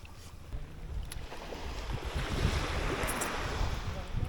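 Steady rush of surf along the shore with wind buffeting the microphone, a continuous broadband wash that swells slightly midway.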